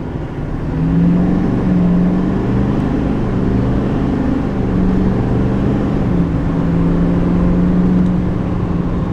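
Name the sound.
2020 Chevy Silverado 3500 Duramax pickup accelerating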